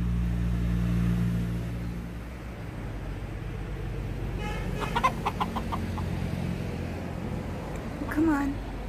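A person imitates a chicken with clucking sounds in short, close bursts over a steady low hum of background noise.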